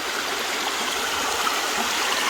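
Water rushes steadily through a gold sluice box on bedrock, a dense, continuous, close splashing flow with no pauses.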